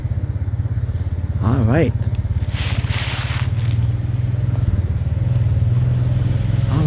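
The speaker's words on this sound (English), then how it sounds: "It's our little four-wheeler" Four-wheeler quad bike engine putting along with a low, steady thrum, growing slightly louder as it approaches, with a brief voice and scraping rustle over it.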